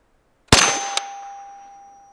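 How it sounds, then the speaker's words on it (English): An FN P90 fires two sharp shots about half a second apart, each a loud crack followed by a long, fading metallic ring, with quiet before and no talking. "First shots with a P90."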